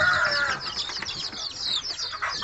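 Brahma chickens clucking and squawking while being given eye-drop vaccines, several close, shrill calls and chattering clucks overlapping in quick irregular bursts.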